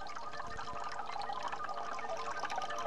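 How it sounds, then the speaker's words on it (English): Water streams from three holes in the side of a full can, a continuous splashing pour and trickle heard up close for a few seconds, with no voices. "Here's the special can full. 3 holes in the side. And why does the water flow out like that?"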